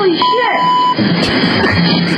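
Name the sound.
censor bleep over a swear word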